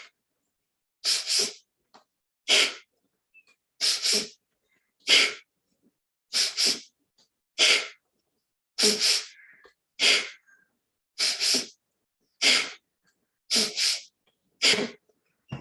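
Forceful Kapalbhati belly exhalations, about a dozen sharp breathy bursts at a steady pace, each separated by quiet pauses, close and clear.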